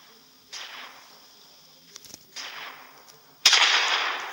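Gunshots in a video game ring out as three sharp, noisy bursts spaced a second or two apart, the last one closest and loudest, with a faint click in between and quiet background hiss.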